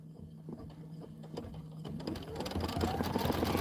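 An embroidery machine stitching a placement line for a quilted pillow block, a rapid mechanical whir and clatter that builds louder toward the end, heard close up.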